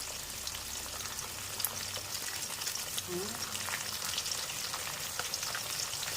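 Rohu fish fries in hot oil with a steady, fairly quiet broadband sizzle and crackle throughout, with a brief low voice or clunk near the middle.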